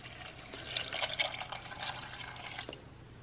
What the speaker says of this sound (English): And then you add 500 milliliters of warm water.